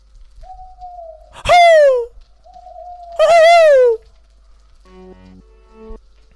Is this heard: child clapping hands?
no